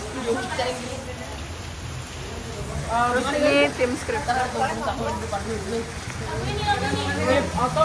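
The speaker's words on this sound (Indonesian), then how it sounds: "Guys, kita kehujanan." Steady rain patters and hisses during an outdoor film shoot, a constant wash of drops under people talking nearby.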